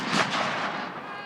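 A 17th-century cannon fires at a battle reenactment, a single loud booming blast with a long rolling decay into open-air noise.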